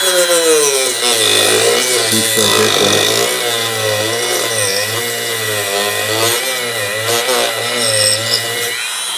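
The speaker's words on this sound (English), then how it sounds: "That should be about enough with the Dremel." A Dremel rotary tool grinds loudly and continuously through plastic ribs on a Honda snowblower, its pitch wavering as the cut loads and eases, close and without speech.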